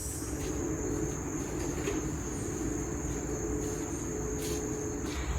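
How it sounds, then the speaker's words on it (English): A constant, dense drone of chirping insects fills the air, loud and unbroken, with a high steady whine over a low rumble. "excuse the loud bugs"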